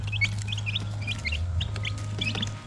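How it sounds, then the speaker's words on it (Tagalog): Chicks on a small mini farm peep in rapid, high repeated chirps over a low steady hum, with soft clucking from the birds close by. "ang gaganda ng mga sisiw natin"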